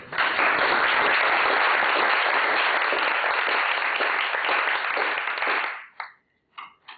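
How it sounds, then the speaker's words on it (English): Steady audience applause welcoming Ambassador Olša to a lecture, a continuous bright patter of clapping held for several seconds, then cutting off sharply into a few last isolated claps. "let's welcome Ambassador Olša with a big round of applause"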